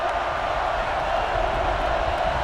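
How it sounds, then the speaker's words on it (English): Stadium crowd noise from NCAA Football 09 swells as a steady, dense roar of cheering fans, loud and constant throughout with no distinct voices standing out. "This crowd is energetic,"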